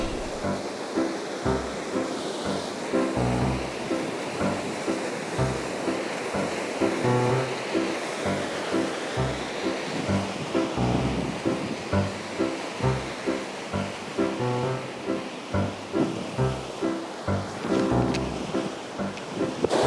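Water from the Cooum River pours down like a waterfall in a steady, dense roar, with no voices heard.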